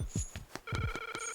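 A phone booth telephone rings in Link's Awakening, a quick bright electronic trill with sharp repeated pulses, briefly layered with higher sustained tones.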